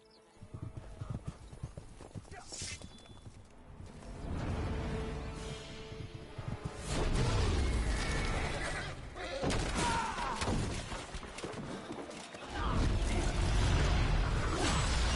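Horse from the video game Witcher 3, with steady clip-clop of hooves and a whinny over game ambience, sounding close and moderately loud, with occasional voices.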